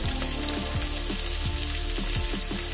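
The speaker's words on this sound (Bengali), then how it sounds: "দিয়ে এটাকে আমি ভেজে নেব, মিনিট 30 করে ভেজে নেব" Chopped onion and garlic fry in oil in a pan, a dense, loud, even sizzle running throughout with no voices.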